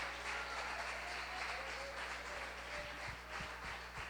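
Church congregation applauding Jesus during a Portuguese-language service, a soft, diffuse patter of clapping over a steady low hum, faint and distant.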